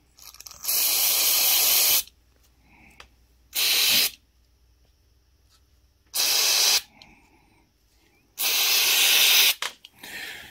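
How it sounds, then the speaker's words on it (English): Brake cleaner sprays onto oily gearbox parts from a Bonneville during a stripdown: four separate loud aerosol hisses of one to two seconds each, close up, with quiet gaps of handling noise between them. "Let me get some brake cleaner. We'll get the oil taken off."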